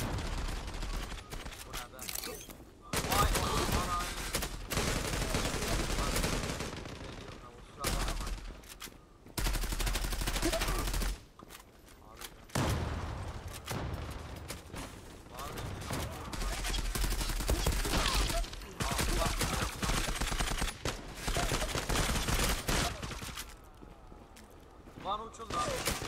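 Rapid bursts of gunfire from the online shooter game Zula, loud and repeated in clustered volleys with short gaps, mixed with excited voices of players talking over it.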